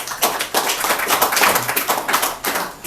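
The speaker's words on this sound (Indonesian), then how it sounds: "Tepuk tangan Mas Yakobus." Audience applause at a gathering of pro-democracy activists in Yogyakarta: a dense, steady burst of many hands clapping at once. It carries on without a break for about three seconds and no voices are heard.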